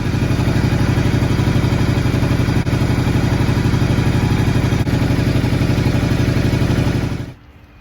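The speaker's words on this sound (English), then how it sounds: "So I'm going out for a bike ride." A motorbike engine runs loud and close at a steady, throbbing idle-like drone, then cuts off abruptly near the end.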